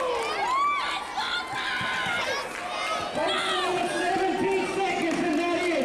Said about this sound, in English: Crowd going nuts.